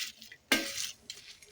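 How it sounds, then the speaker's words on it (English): Spices dry roasting in a pan over low heat give a quick scraping stir with a soft sizzle and a light metallic clink, short and close. "Dry roast all spices for 1 minute on low heat"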